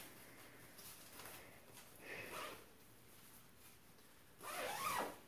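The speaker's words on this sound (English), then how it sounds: "this zipper" Two brief pulls of a down sleeping bag zipper, one short and one longer, rasping over a quiet room background with no voices.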